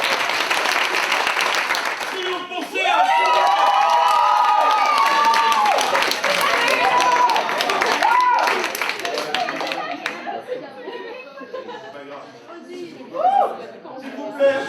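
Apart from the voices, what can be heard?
audience applause at a slam poetry workshop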